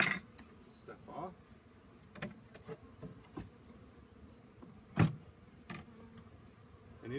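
Honeybees buzzing steadily around a top bar hive as a new colony is introduced, a close continuous drone with occasional knocks and handling bumps.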